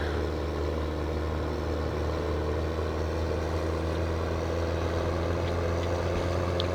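Steady, droning tractor engine from the Farming Simulator 17 game, a constant low rumble at even loudness throughout with no pauses or talk.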